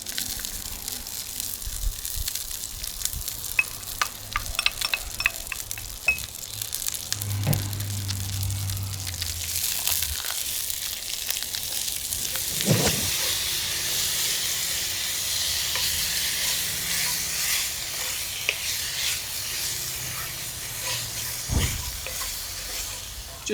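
Ground turkey and minced onion browning in a hot pan, a continuous close sizzle and hiss with occasional scraping and stirring clatter, several louder bursts of spatter, no talking over it.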